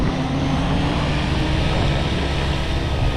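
An RC helicopter on its skids runs steadily and fairly loud after a crash repair, a broadband rotor and motor whir holding even throughout as it spools toward lift-off.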